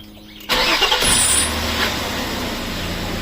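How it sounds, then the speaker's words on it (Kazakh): A Nissan Maxima A32 (Cefiro) engine cranks and catches abruptly after a short quiet moment, then settles into a steady, fairly loud idle. The car has just been lowered off a jack while its power steering is bled. "Машинаны оталдыра бер"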